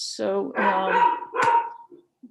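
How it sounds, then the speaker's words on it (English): A household dog barks during an online town meeting, a couple of close barks overlapping with a person speaking. "sorry about my dog"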